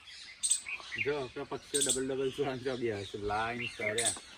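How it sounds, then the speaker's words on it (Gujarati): Small lovebirds chirp in short high tweets near a house where someone talks almost continuously, the birdcalls flicking in and out between and over her speech. "લવ બર્ડ છે જો આ બે"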